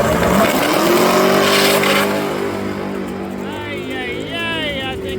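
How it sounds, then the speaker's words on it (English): A Mustang and a Datsun drag racing side by side, engines roaring loudly at launch and pulling away, with a brief high-pitched squeal as the sound fades. "You got a Mustang versus, I think this is a Datsun in the right lane."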